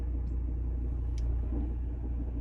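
A Volvo V60 Ocean Race Edition idles with a faulty dual mass flywheel, giving a steady low engine rumble with faint irregular knocking underneath, close and continuous without speech.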